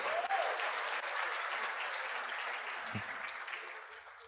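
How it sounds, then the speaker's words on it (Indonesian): A seminar audience in Indonesia gives a full round of applause for the speaker's wife seated at the back. The clapping is thick and sustained, then slowly thins and softens toward the end. "tepuk tangan buat istri saya ya"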